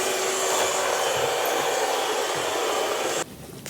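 A robot vacuum cleaner runs with a loud, steady broadband whir that holds evenly for several seconds, then cuts off abruptly near the end, leaving only faint background noise.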